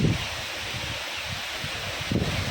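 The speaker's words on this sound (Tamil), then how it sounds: "நல்லா காற்று அடிக்குது" Strong wind roars steadily around a house in the countryside, a loud broad rushing wash with gusty buffeting against the microphone and no voices.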